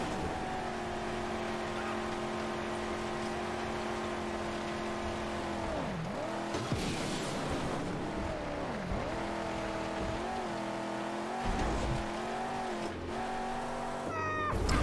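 A car engine races in the Mad Max video game, a loud steady drone with clear harmonic tones that dip and rise as the driver shifts and revs, continuous for the whole stretch.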